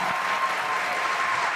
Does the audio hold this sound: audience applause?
yes